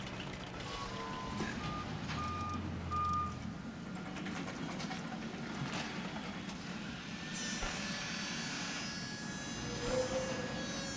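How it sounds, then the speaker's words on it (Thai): A helicopter returning with fossils in the video game Jurassic World Evolution: a steady engine drone runs throughout, with short electronic beeps early on and a brighter mechanical whine building toward the end. "ได้ยินเสียงเฮลิคอปเตอร์ นำฟอสซิล กลับมาแล้ว"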